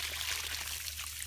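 Nutrient-laced water pours onto potted marijuana plants in a brief, soft trickling splash, faint and close.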